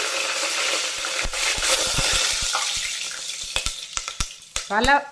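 Bay leaves still wet from washing splutter in hot oil with garam masala while mushroom dum biryani is being made: a steady close sizzle broken by sharp pops, with louder crackles toward the end.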